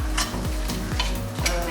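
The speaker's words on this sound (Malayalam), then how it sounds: "മണം പച്ചമണം മാറുന്ന വരെ നന്നായിട്ടൊന്ന് വഴറ്റുക" Masala sautéing in a pan for a Kerala mutton head curry, a soft constant sizzle broken by three or four rhythmic scraping strokes of a spoon stirring against the pan, close and clear.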